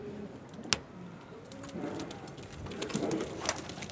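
Soft domestic pigeon coos with a sharp click near the start, surrounded by low background rustle and faint ambient noise.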